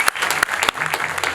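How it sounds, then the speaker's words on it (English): A school audience claps after a motivational talk. The applause is moderate and uneven, with a few sharp, distinct claps standing out from the softer background clapping over about a second and a half. "Give yourself a round of applause"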